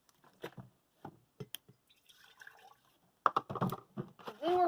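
Juice poured into a glass jar in a kitchen while making homemade gelatin jelly, a short splashing pour with light glassy clinks and drips, a louder burst near the end, no talk.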